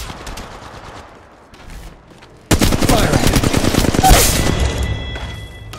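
Sustained rapid automatic gunfire in Apex Legends Mobile erupts loudly after a quieter stretch, dense bursts of shots continuing for several seconds.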